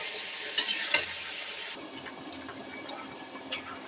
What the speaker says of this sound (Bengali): এখানে ভেজে তুলে রাখছি।